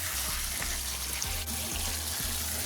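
Tap water runs steadily while beans are rinsed beneath it, with soft rhythmic knocks and sloshing underneath the stream.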